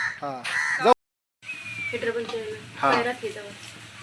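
A crow gives a few harsh caws near a tree, loud and close, mixed with people talking.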